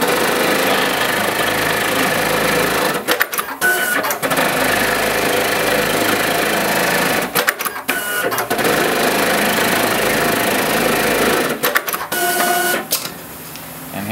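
An industrial sewing machine stitches a programmed pattern, giving a loud, rapid mechanical whir close by that runs in long bursts, broken by brief clunking pauses as it repositions.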